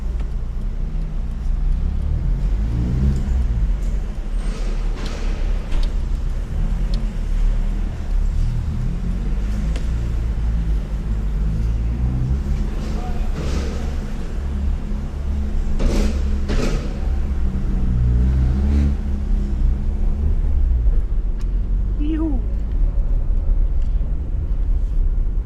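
A car engine idles and revs in a supermarket parking lot at night, a steady low rumble with a few louder surges, close by and continuous with no talk.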